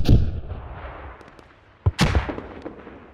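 Mortar rounds striking in a tactical multiplayer squad game, sharp explosive booms near the start and around the two-second mark, each followed by a rumbling decay, with no talk.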